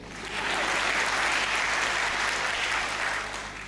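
Audience applause at a Hindi comedy poetry gathering, a broad steady clapping that swells in, holds evenly for a few seconds and fades slightly at the end, moderately loud with no talk over it.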